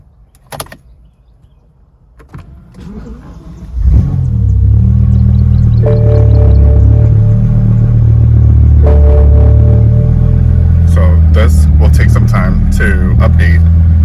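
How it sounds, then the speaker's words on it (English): A BMW M6 with the S85 V10 engine cranks over and fires up after a few faint clicks, then settles into a loud, steady, deep idle rumble that continues to the end. "Let's turn on the engine."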